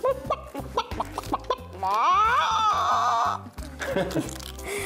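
A person imitates a hen's clucking in a rhythmic series of short clucks, then a drawn-out wavering squawk, followed by more clucking.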